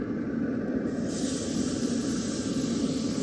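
A steady, loud sizzle with constant hissing and crackling of steak searing in a cast iron pan at 650 degrees on a Pit Boss portable pellet grill, continuous throughout.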